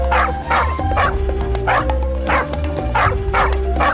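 A dog barks and yips repeatedly in a steady rhythm, close and loud, over a busy background of music and noise.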